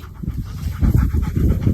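A dog pants rapidly and steadily close by, rhythmic puffs of breath continuing throughout during an outdoor frisbee game with its owner.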